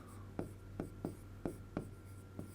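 Writing on a board during a Class 10 mathematics lesson makes a series of six faint, evenly spaced taps and short strokes, quiet and close, with no talking.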